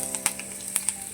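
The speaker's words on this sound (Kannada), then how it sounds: "ಚಕ್ಕೆ, ಲವಂಗ, ಸೋಂಪು ತೊಗೊಂಡಿದ್ದೀನಿ, ಜೀರಿಗೆ, ಇದನ್ನ ಎಣ್ಣೆಗೆ ಹಾಕ್ಕೊಂಡು ಫ್ರೈ ಮಾಡ್ಕೊಂಡಿದ್ದೀನಿ." Cinnamon, cloves, fennel and cumin frying in hot oil for sambar: a steady close sizzle with a few sharp pops and crackles scattered through it, no voices.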